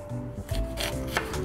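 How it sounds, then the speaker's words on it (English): A knife slicing through a bell pepper on a cutting board, giving a few soft crunchy cuts and light thuds close up over a short moment. "grab a knife, cut the pepper bottom off, stand it up, cut the sides right down"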